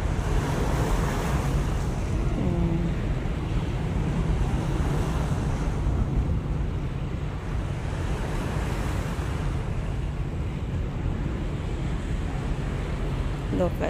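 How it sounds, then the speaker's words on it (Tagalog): Sea waves wash steadily at a Hong Kong harbour by the Royal Hong Kong Yacht Club at night, a continuous surging roar mixed with wind buffeting the microphone and a voice speaking faintly in the background. "Look at the wave."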